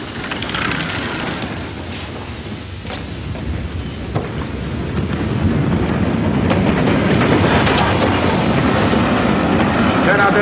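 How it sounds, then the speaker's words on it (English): A steam-era train rumbles into a station with a steady, loud roar and rattling that builds slightly as it nears, a continuous dense wash of mechanical noise throughout. "The train's coming in."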